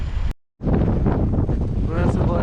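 Strong wind in Tromsø buffets the microphone with a loud, rough, continuous rumble, broken only by a brief dropout near the start.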